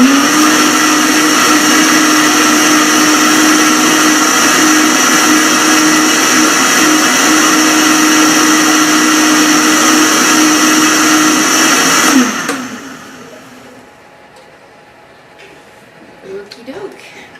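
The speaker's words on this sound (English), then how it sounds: "I don't want to leave the blender running for 5 minutes while you guys are sitting there listening to the noise" A Vitamix blender whirs loudly with a steady high-pitched roar as it blends peppermint hot chocolate, then cuts off abruptly, leaving quiet room sound with a few faint clicks.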